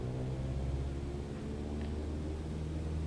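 Aircraft engine at full throttle for takeoff in MSFS2020, a steady low droning rumble holding level throughout, with no voices over it.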